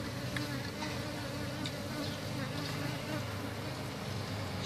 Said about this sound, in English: there's bees around